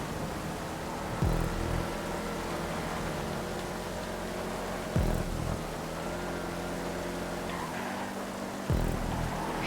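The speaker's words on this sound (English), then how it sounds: "I hate the sound of the engine with these advanced handling flags" A car engine in a GTA 5 race, tuned with advanced handling flags, drones at high revs. Its pitch drops sharply three times as it shifts gears, and no one talks over it.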